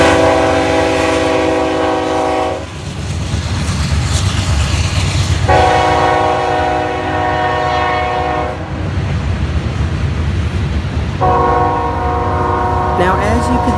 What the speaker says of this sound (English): we then move to July 21st, 2019, where we see a CSX local heading through Hilliard, Ohio with the C40-8W leading the way